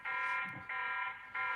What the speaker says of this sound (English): Ignore the beeping for a minute, guys. This is one of our security measures.